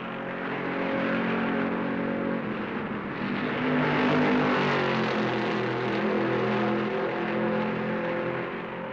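Stock cars race at the 1970 Darlington Southern 500 in a continuous, loud engine roar that swells and shifts in pitch as cars pass, with no talking.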